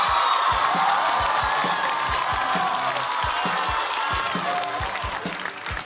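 A stand-up comedy audience applauds continuously and loudly as a comedian comes on stage, a dense wash of clapping with a few scattered whoops, easing slightly toward the end.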